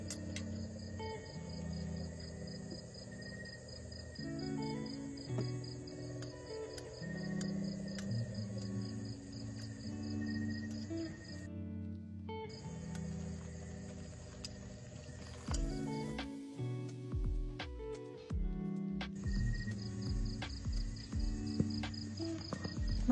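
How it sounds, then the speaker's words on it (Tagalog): Crickets chirp steadily at a quiet campsite, a continuous high, thin trill lasting the whole stretch over lower background sounds, with no one speaking. "sobrang tahimik tapos mga kuliglig lang yung naririnig namin"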